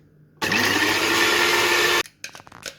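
A blender whirring through tamarind vindaloo curry paste, one loud steady motor roar lasting about one and a half seconds close by, then cutting off to quiet clinks and handling sounds.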